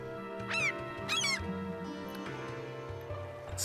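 Odd bird calls in Fire Emblem Engage on a seashore map, meant as seagull cries: sweeping chirpy squawks, two sharp calls early then softer cackling, close and clear, with no voice over them.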